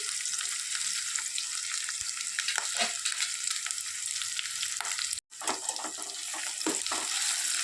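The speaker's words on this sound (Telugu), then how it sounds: "ఈ అల్లం వెల్లుల్లి పేస్ట్ కూడా బాగా పచ్చి వాసన పోయేంతవరకు ఒక 2 నిమిషాలు వేగాలి." Ginger garlic paste fries in a pan with onions, green chillies and tomato, a dense, even hiss with occasional stirring scrapes and a brief silent break.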